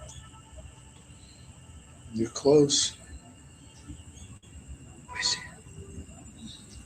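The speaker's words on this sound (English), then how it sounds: "I know you hear the crickets and the frogs." Night crickets and frogs chirp steadily in the background outdoors while a person speaks briefly over them, with a couple of louder voice bursts breaking the continuous insect drone.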